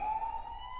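An ambulance siren wails in a steady, sustained tone, loud and close, with no talking over it.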